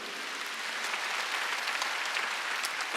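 A church congregation at a Wednesday worship service applauds steadily, a dense wash of many hands clapping at an even level throughout, with no voices standing out.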